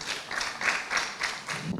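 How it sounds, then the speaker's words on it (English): An audience at a conference applauds the grand finalist universities, a short burst of clapping in pulsing waves that fades at the end. "Please, a round of applause for these schools"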